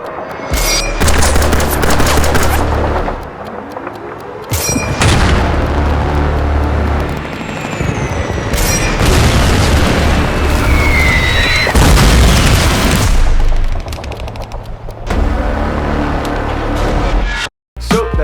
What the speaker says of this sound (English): I used this exact explosion with no editing whatsoever